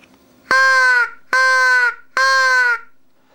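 Three loud, harsh caws blown on a Johnny Stewart Hammerin crow call, each lasting about half a second with short gaps between, close and alone against quiet.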